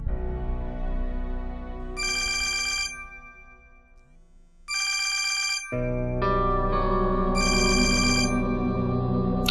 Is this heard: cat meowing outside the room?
no